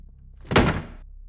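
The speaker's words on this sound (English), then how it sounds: "The door slammed shut directly in my face." A basement door slams shut with a single loud, close thud that rings briefly and dies away, with quiet before and after.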